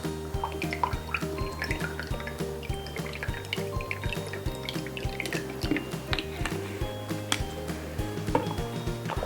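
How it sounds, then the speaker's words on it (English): Red wine vinegar pours into a salad bowl already holding olive oil, giving a soft, continuous liquid trickle with small drips and splashes, heard close and quiet. "We're going to add some red wine vinegar, a couple of tablespoons."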